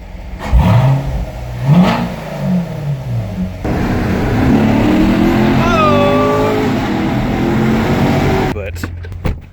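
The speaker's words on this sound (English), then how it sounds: "But the sound it makes when you shift at wide open throttle." A Chevrolet C7 Corvette Stingray engine revving hard at wide open throttle and shifting. It is loud and close, rising in pitch, dropping at the gear change, then climbing again in a long pull before cutting off.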